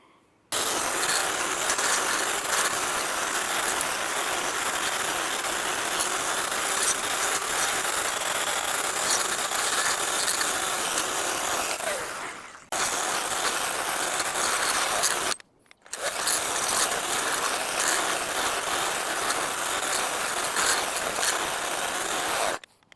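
A Ryobi 18V HP brushless edger runs along a driveway, a loud continuous grinding whir that cuts out briefly twice.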